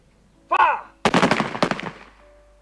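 A ragged volley of rifle fire from a WWI-style firing squad reenactment, many near-simultaneous cracks bunched into a dense burst of overlapping shots, preceded by a brief shouted voice.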